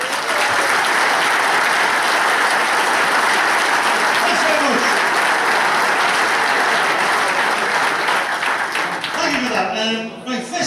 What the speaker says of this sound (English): Very round of applause,